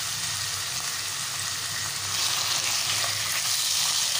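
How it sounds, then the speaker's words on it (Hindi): Chicken pieces fry in a pan with ginger-garlic paste, giving a steady, close sizzle that swells slightly midway and continues without a break, with no voices. "तो हम इसको कलर इसका चेंज होने तक इसको 1 मिनट तक हम इस तरह से इसको फ्राई करते हैं।"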